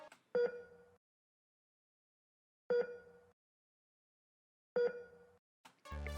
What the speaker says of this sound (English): This is what the heart monitor sounds like.